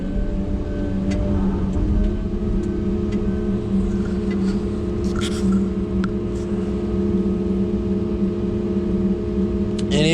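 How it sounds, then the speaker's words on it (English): A track cutter's engine drones steadily and loudly while moving the delimbinator onto a dirt pile, with a constant low rumble and a few faint clanks. "We're gonna try and spin it up on that dirt pile."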